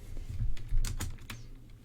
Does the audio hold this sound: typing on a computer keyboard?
yes